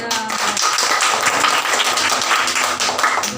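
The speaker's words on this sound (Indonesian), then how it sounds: "Tepuk tangan untuk Tuhan Yesus dulu" Hand clapping at a Sunday school worship service, brisk group clapping close and loud over a steady musical backdrop with sustained tones, continuing evenly throughout.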